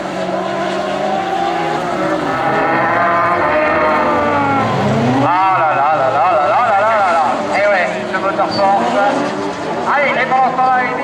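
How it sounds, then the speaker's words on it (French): A Super Buggy race car at an autocross circuit screams down the straight, its engine note rising and falling in loud sweeping revs, with a commentator talking over it. "je vous laisse savourer le bruit du moteur force de Pierre Le Guillou dans la ligne droite sur le circuit de Monde"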